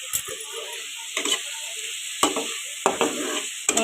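Spiced food stirred in a frying pan, with a steady sizzle and a few distinct scraping strokes of the spoon, close and fairly loud.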